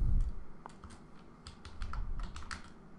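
Rapid clicking of keys on a computer keyboard in irregular bursts, fairly close and clear, with no talking over it.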